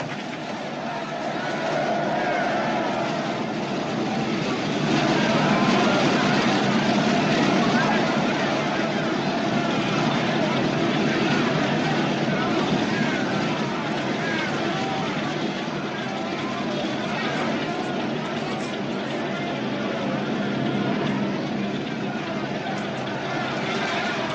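A steady propeller-plane engine drones loud and unbroken throughout, with a dense broadband roar and a faint mechanical hum beneath, as people talk over it near a small aircraft on a remote airstrip.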